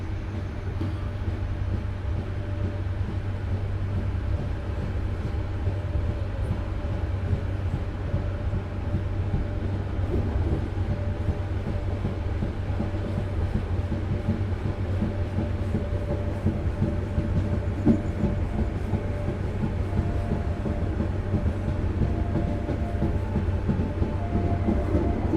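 A KA Joglosemarkerto passenger train rolls along the rails, heard from inside as a steady, loud low rumble with faint rhythmic clatter that continues unbroken for the whole stretch.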